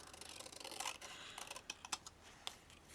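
Scissors cut a flower picture in half, heard as a short run of close, crisp snipping and paper rustle with several sharp cuts toward the end, fairly quiet and without talk.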